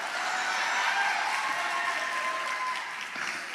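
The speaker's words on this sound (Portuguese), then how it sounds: "Quem gostou de Wendel, aplaude o Wendel" A church audience applauds for Wendel with a sustained, dense wash of clapping that stays loud and even throughout, no voices standing out.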